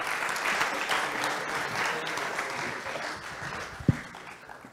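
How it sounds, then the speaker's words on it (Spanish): Applause from a conference audience for a speaker at an Odoo event, steady moderate clapping filling the room at a slight distance, fading toward the end with one sharp louder clap near the close. "Un aplauso, Jordi, también para ti"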